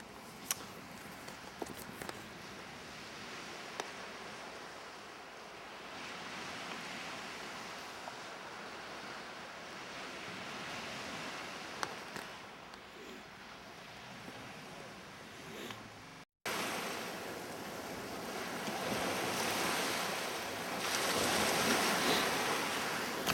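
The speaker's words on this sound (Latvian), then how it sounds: "Braucam gar jūras krastu, pa pašu maliņu, uz molu." Sea waves wash along the shore in a steady broadband rush, heard while cycling along the Latvian coast toward a pier, with wind buffeting the microphone and a brief cut midway before the surf grows louder.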